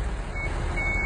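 A forklift's reversing alarm sounds steady electronic beeps at an even pace over a low engine rumble, close by and with no one speaking.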